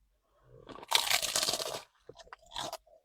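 A crunchy taco from a Mexican restaurant is bitten into at close range, giving one long burst of loud, brittle shell cracking, then a few softer crunches and chewing sounds.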